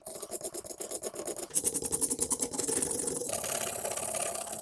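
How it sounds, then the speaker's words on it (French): A plaster mould surface is scraped smooth with rhythmic, rasping back-and-forth strokes that grow denser and more continuous toward the end, close and fairly loud. "je vais essayer de gratter ça bien comme il faut"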